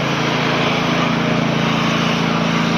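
Several company power generators running together, a steady loud droning roar with a constant low hum, close and unbroken for the whole stretch.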